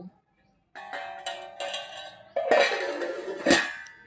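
A lid is set down on a pot of dim bhapa (steamed eggs) in a home kitchen, giving a couple of close, sharp metallic clanks and rattles after brief quiet.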